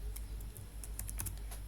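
Quick light keystrokes on a computer keyboard while coding an HTML and CSS sign-up form, irregular soft clicks in small bursts, close but faint over a low steady hum.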